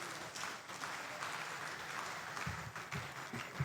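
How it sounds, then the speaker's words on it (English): An audience at an engineering forum applauds steadily, a dense wash of clapping hands that holds at an even level throughout. "Can we applaud them better as they return to their seats?"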